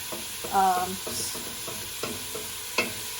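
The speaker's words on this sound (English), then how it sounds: "You want to keep it about a single layer of meat as you brown it" Beef pieces browning in a single layer in a hot stew pot give a steady close sizzle, stirred a few times with brief scraping bursts, with no one talking.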